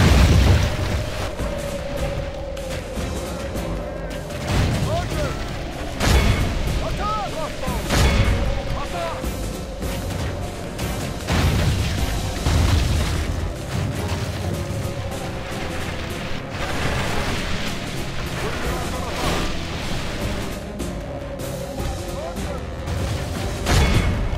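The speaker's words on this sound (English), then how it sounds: "The enemy's ram is through our gates!" Heavy repeated impacts of a battering ram striking and breaking through castle gates during a siege battle in Total War Medieval 2, the loud crashing blows recurring every few seconds over a dense din of combat and voices.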